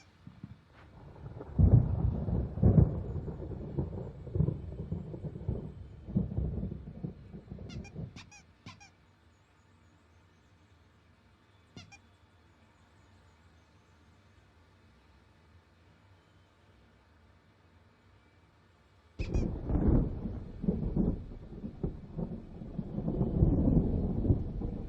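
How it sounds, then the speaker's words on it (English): Thunderstorm in the video game Alan Wake Remastered: loud rolling thunder rumbles with rain fill the first eight seconds, fade to a quiet lull with faint clicks, then return heavily near the end. "There's a storm coming. Oh, what a storm."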